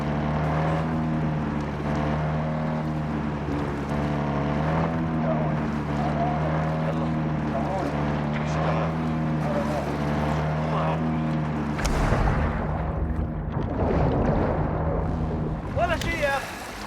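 A patrol boat engine in Call of Duty: Modern Warfare 2 keeps up a steady humming drone throughout, with voices talking over it and a burst of rougher noise toward the end.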